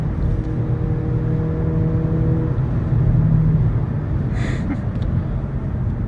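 A Hyundai Kona N takes a corner with a steady, low engine drone and road rumble heard from the cabin, holding fairly even with a faint brief hiss near the end.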